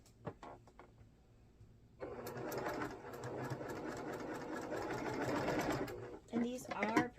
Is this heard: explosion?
no